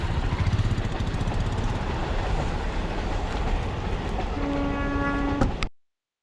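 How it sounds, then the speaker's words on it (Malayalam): A train rumbles past a railway crossing steadily and loudly, its horn sounding with a sustained tone near the end before the sound cuts off abruptly. "ആ റെയിൽവേ ക്രോസ് വഴി ട്രെയിനൊക്കെ പോകുന്ന കണ്ട്"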